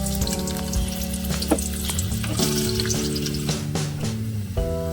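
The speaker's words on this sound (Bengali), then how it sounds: "পেঁয়াজটা লাল লাল ভাজা হয়ে গেছে।" Onions fry in a pot with a loud, steady sizzle and bubbling crackle close by, and a few sharp clicks and clatters of stirring over a low background hum.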